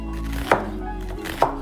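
Kitchen knife slicing a white onion into thin strips for a taco pizza, two crisp cuts against a board spaced about a second apart, close and fairly quiet over a steady background hum.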